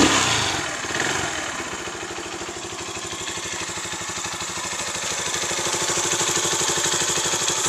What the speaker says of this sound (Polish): Romet Soft Chopper 125. Kultura pracy silnika.